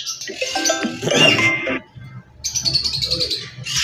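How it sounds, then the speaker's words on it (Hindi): Green ringneck parakeets at a busy Sunday bird market in Bahawalpur, loud shrill chirps and squawks in close overlapping bursts, with a brief pause before another burst of calls. "50 से 60 पेयर है रिंगनेक का, ग्रीन रिंगनेक का, इंतहाई खूबसूरत पेयर है।"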